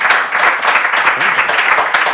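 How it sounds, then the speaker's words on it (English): Studio audience at a sports talk show breaks into steady applause and clapping that continues without a break, loud and broadband, with a few voices mixed in under the clapping. "Let's go give yourselves a round of applause."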